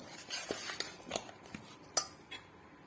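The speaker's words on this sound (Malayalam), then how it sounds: "മാവേ നമുക്ക് ഇതിനകത്തോട്ടിട്ടൊന്ന് ഇളക്കി വെക്കാം" A spoon stirring plum cake batter in a bowl, with irregular scrapes and light clinks against the bowl, quiet and close.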